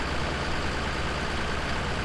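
A tractor engine running steadily in the video game Farming Simulator 17, a continuous low droning rumble with an even heavy hum, close and unbroken.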